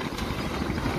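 A freshwater speedboat motor idles steadily with a continuous low rumble and mechanical hum, no voices over it.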